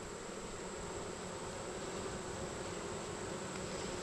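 Dense swarm of honeybees pouring out of an opened hive during an August inspection, a steady close buzzing drone that fills the whole clip without pause, no talking.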